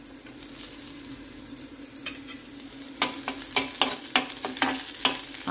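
Green chillies drop into browning onions frying in a pan, a steady sizzle broken by a run of sharp stirring scrapes and clinks that quicken toward the end, with no voices.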